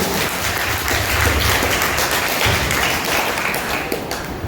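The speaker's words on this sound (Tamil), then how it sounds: "அவங்க நல்லா பாட ஆடுறாங்க அப்படின்னு ஒரு மிகப்பெரிய கைத்தட்டலை கொடுத்துடலாம்" An audience at a children's final-day celebration claps for the singers, a dense, steady round of applause at close range with no break.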